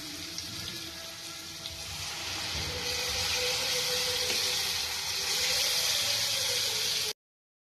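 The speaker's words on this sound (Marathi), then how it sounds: "त्याच्यात थोडंसं पाणी टाकायचं." Water is poured into a pan of paneer masala, a steady splashing rush that swells and then continues evenly over a faint sizzle before cutting off abruptly.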